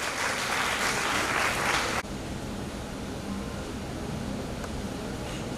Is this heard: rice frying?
no